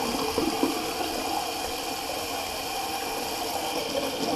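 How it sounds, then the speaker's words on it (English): Running tap water streams steadily while a Karve razor is rinsed under it, a close, continuous splashing rush with no talking. "rinse off the old Karve Razor."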